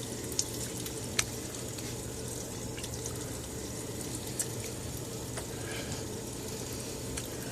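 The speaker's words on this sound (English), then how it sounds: "Add a little bit of water to my face." Steady running water splashing close by as water is splashed onto a face before shaving, a continuous wet rush with a few small clicks and knocks, no voices.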